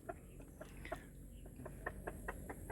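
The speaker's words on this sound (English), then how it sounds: "He's sitting in there and he's clucking." A lone chicken, likely a rooster, sits in its coop clucking in a series of short, faint, rhythmic clucks against a quiet background hum.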